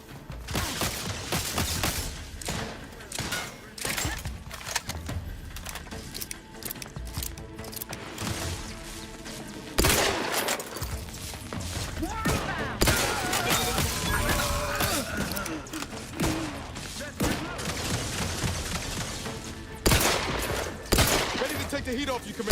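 Gunfire in The Outer Worlds 2 video game: repeated bursts and single shots crackle throughout a dense combat mix, with sharp loud cracks standing out now and then amid game noise and some speech.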